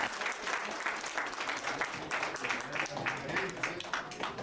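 Audience applause at a Spanish-language gathering as people stand to honor guests, a fairly quiet, continuous patter of clapping with some voices mixed in.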